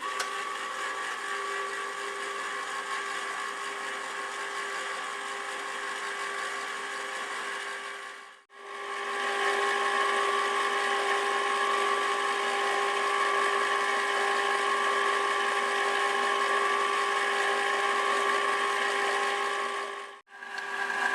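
Steady, loud mechanical whirring and grinding from a motorized ice cream maker churning homemade ice cream continuously, briefly cutting out twice before resuming, with no voices.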